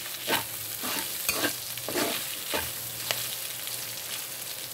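Ground pork with ground pepper frying in a pan for pork giniling, a spoon scraping and stirring in several distinct strokes over a soft steady sizzle, no voices.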